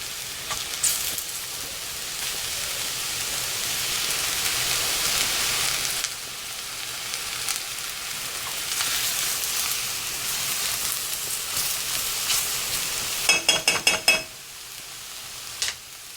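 Mushrooms cook in a pan with a steady, soft sizzle that lasts throughout, then a quick run of metallic taps near the end, close by with no voices.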